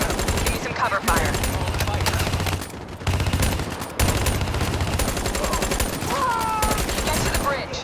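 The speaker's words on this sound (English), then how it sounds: "Give me some cover fire." Covering gunfire rages in the video game Call of Duty: Black Ops 3. Loud, dense bursts of automatic fire rattle on nearly without pause, with a voice calling out partway through.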